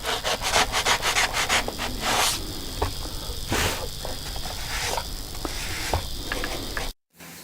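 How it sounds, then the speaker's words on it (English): Hand sanding on the nose of a model SBD Dauntless fuselage, quick rasping back-and-forth strokes in an uneven rhythm, close and fairly loud, ending in a brief silence. "we now got this little bit to sand up on the nose here"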